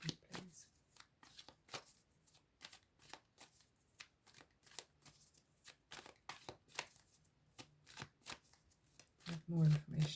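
Tarot cards shuffled by hand during a reading, a close, quiet run of rapid crisp riffles and slaps repeating at an irregular rhythm, with soft speech faintly beneath.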